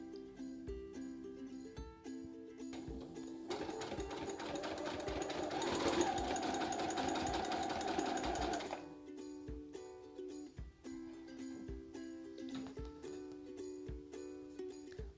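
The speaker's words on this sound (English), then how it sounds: "Sew down on each side 1/4 inch from the edge." A sewing machine stitches the sides of a reversible fabric face mask, a steady rapid buzzing burst in the middle set between quieter intermittent mechanical ticks and hum.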